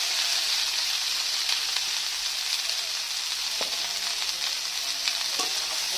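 Potatoes, eggplant and cauliflower stirred while frying in a pan, a dense, even sizzle with faint occasional scraping taps from the spoon, steady and close throughout.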